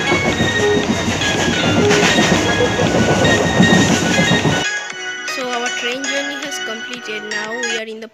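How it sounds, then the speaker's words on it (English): Steady rumble and rhythmic clatter of a train rolling along rails, loud and close, then the sound drops to a quieter, muffled interior hum with faint clicks. "So finally we are in our train"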